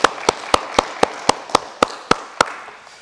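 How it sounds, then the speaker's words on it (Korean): A church congregation at a Korean Sunday service in Berlin claps in unison, about ten crisp, evenly spaced claps in a steady beat that stop after a few seconds, with no voices over them. "우리 영광의 박수 크게 한번 올리겠습니다"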